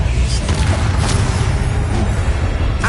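Confringo blast spell in Hogwarts Legacy erupting in a loud, continuous rumbling boom with bursts of crackling debris layered over deep low-end thunder.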